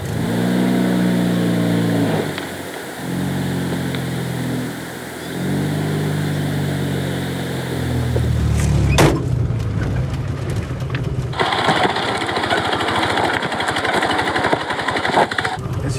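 Fiat 126p Maluch engine labouring over a rocky road on a Kazakhstan–Russia route, a loud buzzing drone that rises and dips with throttle, followed by harsh rattling and clattering from the car as it bumps over stones.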